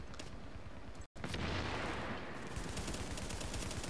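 Gate turret gunfire in The Division, rapid continuous automatic bursts rattling loudly and close, broken only by a split-second gap before the firing resumes just as hard.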